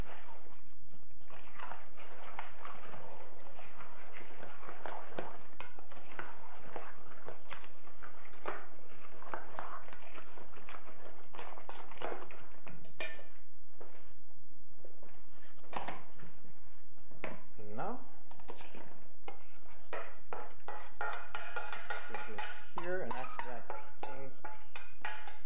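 A spoon stirs a grain-free paleo bread mixture in a bowl, giving irregular scraping and knocking sounds at close range, with a voice talking now and then.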